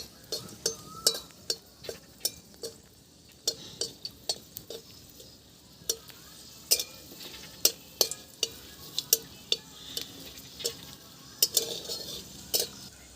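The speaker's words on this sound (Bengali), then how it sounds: "ভালো করে এবার তেল লঙ্কাটা আমি পাকিয়ে নিচ্ছি" Chilies fry in hot oil in a pan, a soft steady sizzle broken by repeated sharp clicks and scrapes of a utensil stirring, with no talking.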